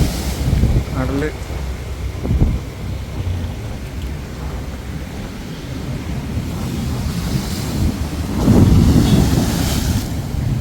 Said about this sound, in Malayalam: നല്ല രീതിയിൽ കടലടിക്കുന്നുണ്ട്.